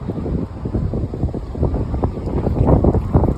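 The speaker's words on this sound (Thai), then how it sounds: "โอ้ยลม" Strong outdoor wind buffets the microphone in continuous, rumbling gusts during an early-morning walk, loud and uneven, with no clear talk.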